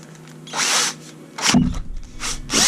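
A power drill whirs in short bursts, spinning up and stopping several times, close by, with faint clicks and handling noise between runs, as wire is chucked in it for a handmade topwater lure.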